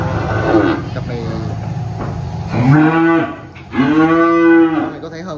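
Large cattle bellowing at a cattle farm, with two long, loud, close moos in the second half, under and between steady talk.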